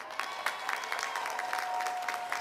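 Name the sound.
commencement audience applauding the faculty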